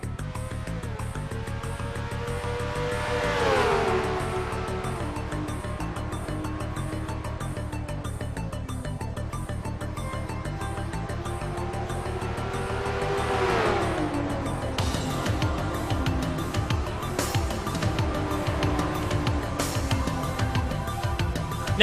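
Race cars roar around the Karjala track in a video game racing series, with steady engine drone and rising and falling revs as cars sweep past, continuous and fairly loud throughout.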